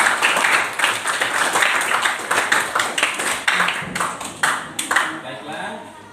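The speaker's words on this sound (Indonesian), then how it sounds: "Tepuk tangan untuk" Applause in a classroom after a group presentation, a burst of mixed clapping from many hands that rises and tapers, with voices talking over it.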